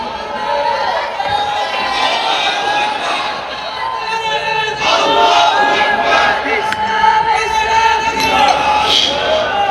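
A large crowd of worshippers at an Islamic religious gathering shouts together, a dense roar of many voices rising and falling in waves, loud and continuous throughout.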